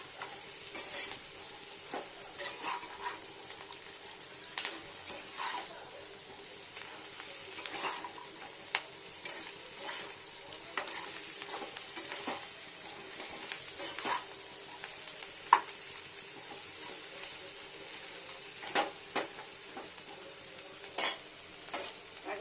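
Chili chicken with diced onion and capsicum fries and sizzles in a pan, a steady crackle broken by stirring scrapes and occasional utensil clinks, close and moderately quiet, with no talking.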